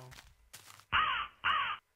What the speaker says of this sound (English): I got a bird.